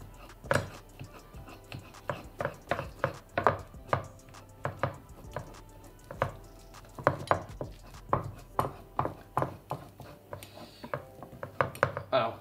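A ripe banana, broken into pieces in a deep plate, is mashed with a utensil in a run of about twenty close, irregular clacks and soft squishy thuds against the dish, fairly quiet, with no talk.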